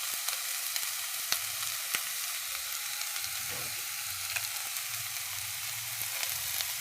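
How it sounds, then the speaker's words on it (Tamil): Tomatoes sauté in a pan with salt, turmeric and chili powder, giving a steady close hiss of frying with scattered soft clicks of stirring, and no voices. "தக்காளி எல்லாத்தையும் நல்லா வதக்கணும். நல்லா வதக்கினோடனே தேவையான அளவு உப்பு, மஞ்சத்தூள், மிளகாத்தூள் எல்லாத்தையும் போட்டு நல்லா வதக்கி"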